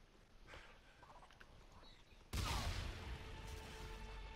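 Gunfire rings out in Call of Duty: Infinite Warfare Zombies, faint shuffling giving way to a sudden loud burst of shots and rumbling blasts that carry on to the end.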